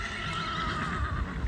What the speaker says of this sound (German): Das weiße Pferd ist Flora